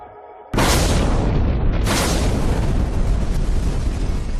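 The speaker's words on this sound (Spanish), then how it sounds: "Se produjo una explosión, no una explosión nuclear, sino térmica." A sudden massive blast like the 1986 explosion of reactor number 4 at Chernobyl, a thermal rather than nuclear explosion, booms in after near silence, then a second surge roars on as a sustained, loud, rumbling wash with no voices.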